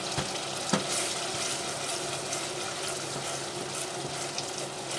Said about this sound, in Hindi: मसाला हमारा भुन रहा, घी छोड़ दिया है